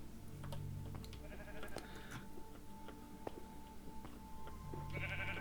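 Sheep bleating indoors or near a barn, several short wavering calls scattered across the stretch over a faint background with light ticking and clicks, moderately quiet and not accompanied by talk.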